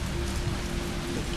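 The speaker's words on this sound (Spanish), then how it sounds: "Está lloviendo." Steady rain falls in the Resident Evil 3 Remake video game, a dense, even hiss of drops on surfaces with a low rumble beneath, continuous and fairly loud throughout.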